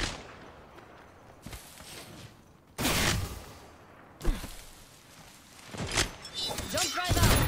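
Gunfire in the Apex Legends video game on the Broken Moon map, sharp bursts and cracking shots separated by quieter stretches, with rapid volleys building toward the end.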